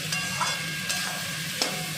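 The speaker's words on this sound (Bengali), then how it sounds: "সবজিটাও ভাজা ভাজা হয়ে গেছে" Salted vegetables fry in a hot pan with a steady, soft sizzling hiss, broken by a few brief clinks and scrapes of stirring.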